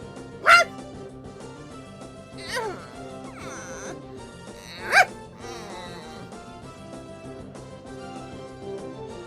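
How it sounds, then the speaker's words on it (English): Synthesized dog bark cries from a Pokemon video game: a few short, sharp yelps at separate moments, layered over steady game music and effects. "There's a lot of conflicting bark sounds in there"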